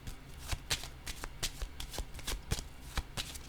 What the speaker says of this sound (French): Je vais déposer une carte ici entre les deux.